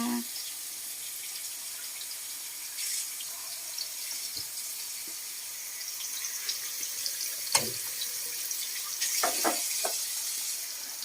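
Water runs steadily from a tap at a holiday house in the hills, a continuous rushing hiss with a few clinks and knocks on top.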